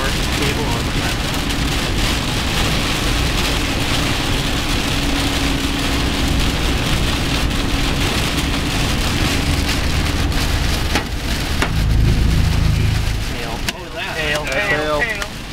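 Heavy rain with hail pounds steadily on a car during a Missouri storm, a dense loud drumming throughout, with a voice speaking briefly near the end.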